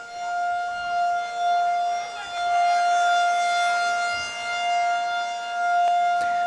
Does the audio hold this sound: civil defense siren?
yes